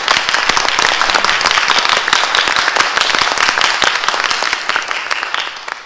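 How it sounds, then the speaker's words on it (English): A crowd claps for candidates at an Etna Township candidate night, loud and close with crisp individual claps in a sustained burst that eases off near the end. "Let's hear a round of applause for all the candidates this evening."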